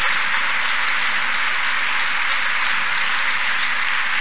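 A church congregation claps during a deliverance prayer service, a dense, steady wash of many hands clapping that sounds loud and continuous with no talk.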